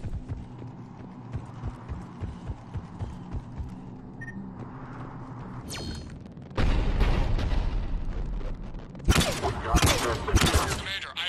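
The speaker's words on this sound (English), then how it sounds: "The cannon fire is clearing the way." Cannon fire and explosions in Mass Effect 3 open as a steady rhythmic thumping, then give way to loud booming blasts and a second heavy crash near the end, close and forceful.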